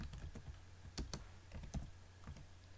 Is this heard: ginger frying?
no